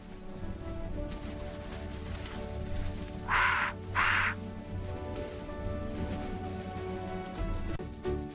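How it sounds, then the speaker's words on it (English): An egret gives two harsh, rasping calls in quick succession, loud and near, over soft background music in a cartoon animal-alphabet setting. "E is for egret."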